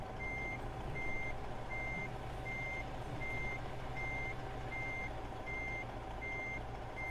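A truck's reversing alarm beeps steadily and evenly while backing up a trailer, sounding over a loud, continuous diesel engine rumble close by.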